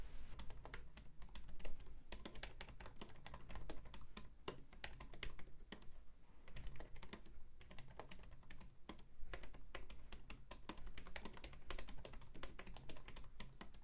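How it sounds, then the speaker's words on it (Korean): A lavender Logitech K380 wireless keyboard is typed on steadily at close range, producing a continuous patter of soft, muted keystrokes with no talking. "로지텍 K380을 좋아하는 이유 중에 하나가 바로 타건감인데요."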